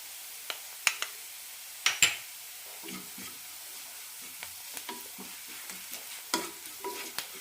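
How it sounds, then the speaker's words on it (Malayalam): Onion with turmeric, chilli powder and garam masala sautéing in a pan, a soft sizzle under scattered spoon scrapes and light clicks against the pan, close and fairly quiet, no speech. "ഒരു മിനിറ്റ് നന്നായി ഒന്ന് വഴറ്റിയെടുക്കാം പൊടികൾ നന്നായി ഒന്ന് മൂത്ത് കിട്ടണം"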